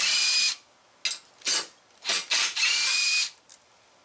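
A Makita power drill with a 10mm socket backs out bolts on a Concord single banjo burner, giving several short, close whirring bursts with brief pauses between them.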